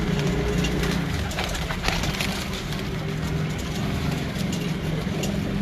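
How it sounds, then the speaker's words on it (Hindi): Teddy pigeons on a Kasur rooftop, with soft intermittent cooing and light wing or perch sounds over a constant outdoor rumble of distant traffic. "एक बार टैडी कबूतरों पर नज़र दोस्तों को"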